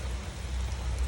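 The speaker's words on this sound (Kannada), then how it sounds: "ಇದು ಮಳೆ" Rain at Udupi comes down in a steady, dense patter with a low rumbling undertone. It is continuous and fairly loud, with no voices.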